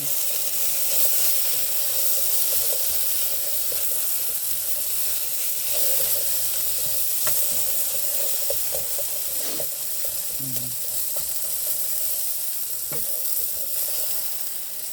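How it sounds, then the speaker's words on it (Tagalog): Minced corned beef frying in a pan while being stirred: a loud, constant sizzle with scattered scraping clicks and light knocks from the utensil. "Kailangan na haluin natin. Kaya hindi siya masunog."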